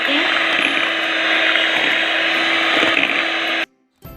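An electric hand mixer whirs steadily as it beats eggs into fluffy batter for a cappuccino loaf cake, a loud continuous drone that cuts off abruptly near the end.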